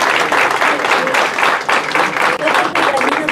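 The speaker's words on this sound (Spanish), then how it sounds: "Un aplauso fuerte." Sustained applause from a crowd at an award ceremony, dense clapping with swelling surges, fairly loud and continuous.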